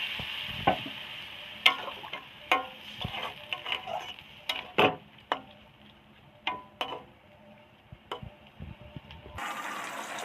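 A pot of vegetable curry with water just added bubbles quietly over the heat, with scattered pops, soft sizzling and an occasional clink from the pot, and no voices.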